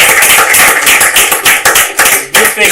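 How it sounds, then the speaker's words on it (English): Loud round of applause from a conference audience at a national event on food systems and fruit cultivation, dense crowd clapping close by with a few sharp individual claps standing out. "I think we should have a round of applause for our audience as well"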